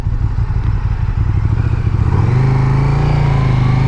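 2017 KTM 1290 Super Duke GT motorcycle engine revs hard and close, a loud rumbling roar climbing in pitch and holding high, with no voices.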